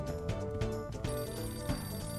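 A phone rings in Shadow Hearts, a loud electronic ringtone with repeating bright tones over dense game music throughout.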